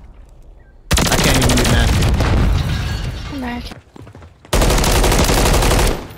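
Rapid automatic gunfire from a new gun in a shooter video game rattles loudly in two long bursts, separated by a short quieter gap, while a player talks over the shooting.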